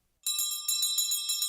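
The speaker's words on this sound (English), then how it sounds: "this bell rings for every child who triumphs over cancer." A hand bell at Children's Hospital Los Angeles, rung for a child finishing cancer treatment, rings out in quick, steady, bright strikes, loud and close, with no voices over it.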